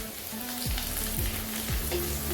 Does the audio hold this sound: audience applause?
no